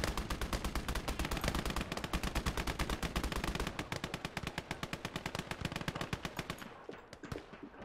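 Sustained rapid machine gun fire in the World War II game Gates of Hell, loud and close, a long continuous burst of evenly spaced shots that thins out and stops near the end, with no talking.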